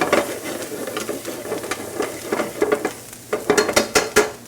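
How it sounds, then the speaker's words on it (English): Onions sauteing in a pan as a step in making Maine lobster paella, a steady close sizzle with scraping stir strokes that grow louder and more frequent toward the end, with no voices. "Back to our onions. We're sauteing these."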